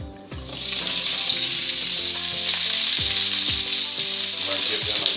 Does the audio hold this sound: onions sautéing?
yes